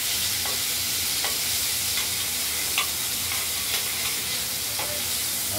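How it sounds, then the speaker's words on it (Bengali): Boal fish pieces coated with salt and turmeric fry in hot oil, a steady, dense sizzle that hisses continuously with scattered small pops and ticks, close up and alone. "নুন হলুদ মাখিয়ে ভেজে নিচ্ছি।"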